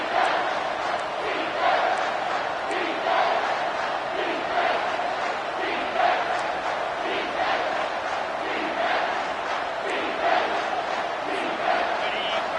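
Home crowd at a football game roars steadily as the defense faces 3rd down, a dense sustained cheer with swelling peaks, heard from within the stands.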